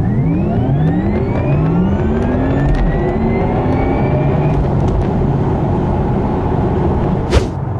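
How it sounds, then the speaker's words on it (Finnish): A Porsche Taycan 4S electric car accelerates with a rising whine that sweeps upward in pitch, over steady road and tire rumble heard from inside the cabin. "tällä kertaa sitten koeajossa tämmönen Porsche Taycan ja 4S, eli perusmalli"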